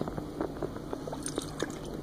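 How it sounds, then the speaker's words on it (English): Tap water runs into a beaker at a sink as it is rinsed out, giving a soft, steady splashing trickle with small drips and sloshes, fairly quiet and close. "starting by dumping it down the sink, rinsing it with the tap water"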